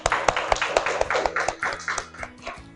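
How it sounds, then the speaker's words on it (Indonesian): A classroom of students claps for everyone after a group discussion, a loose, fairly close run of individual claps with an uneven rhythm. "Mari kita kasih tepuk tangan untuk semuanya."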